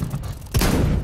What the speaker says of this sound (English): Grenade out. Deploying flashbang.